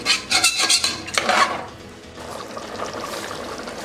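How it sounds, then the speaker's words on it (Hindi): A spoon stirs chana shorba, white chickpeas simmering in a pot with added water, giving several close scraping and clinking strokes in the first second and a half, then a softer, steady bubbling wash. "अच्छे से चम्मच हिला लेंगे"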